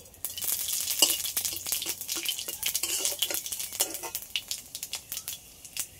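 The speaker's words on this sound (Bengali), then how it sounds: "ফোড়নে অল্প করে পাঁচফোড়ন দিয়ে দিচ্ছি" Panch phoron spices hit hot oil and crackle sharply, a dense run of close popping and sizzling bursts that thins out toward the end, with no speech.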